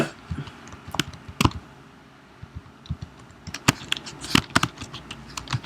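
Close, crisp computer keyboard typing in irregular bursts of clicks while entering month names into HTML code, with pauses between keystroke clusters and no voice.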